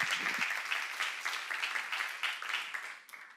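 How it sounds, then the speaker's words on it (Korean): Church congregation applauding together, a dense wash of clapping that holds steady for a few seconds and tapers slightly at the end, with a faint voice briefly underneath. "박수로 하시죠."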